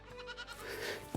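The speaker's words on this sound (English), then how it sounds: "So we're going to go have a look at the goats." Goats bleat in a paddock on a small farm where bees are also kept, a short, fairly quiet wavering call heard alone with no talk.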